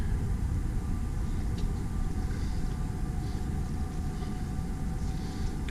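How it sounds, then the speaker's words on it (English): A train passes in the open air at a spot popular with train enthusiasts, giving a steady, close, broadband rumble that holds level throughout without any talk. "There's a strange train."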